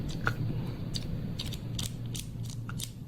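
The slide switch on a Wuben X4 flashlight being moved through its graduations, producing a run of faint, small mechanical clicks and ratcheting ticks, close up and quiet against soft background noise.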